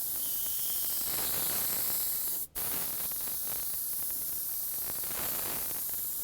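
Spray gun laying a light coat of candy red paint onto a panel, a steady loud broadband hiss running throughout with one brief cutoff midway, no voices.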